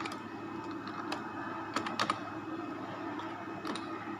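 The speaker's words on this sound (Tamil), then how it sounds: "நான் ஒரே ஒரு லைன் மட்டும் இதில் டைப் பண்ணி காண்பிக்கிறேன்." A line of a Python program is typed on a computer keyboard in a tech lab. Quiet, scattered key clicks come in small bursts over a soft, steady room hum, with no talk.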